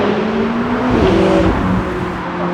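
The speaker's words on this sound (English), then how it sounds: "hell of a McLaren. Always nice to see." A McLaren sports car passes close by with a loud, steady engine roar that swells and shifts in pitch as it goes past.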